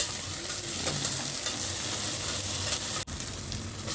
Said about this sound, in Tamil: நல்லா வதங்கின உடனே புதினா போடணும் புதினாவும் நல்லா வதங்கினதுக்கப்புறம்